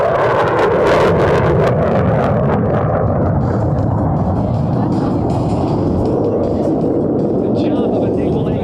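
An F/A-18 Super Hornet jet at an air show demonstration at Nellis Air Force Base roars loudly and continuously, a broad thundering rumble that slowly eases off while a commentator talks over it.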